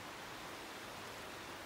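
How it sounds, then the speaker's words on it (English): Distant massive waterfalls in a mountain meadow give a steady, faint, broadband roar that holds unchanged throughout, with no voices. "I can hear the massive waterfalls over here"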